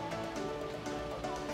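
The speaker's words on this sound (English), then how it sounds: "it's raining a lot" Heavy rain falling steadily on a Sunday, a dense, continuous hiss of drops on surfaces throughout, close and fairly loud, with no voices.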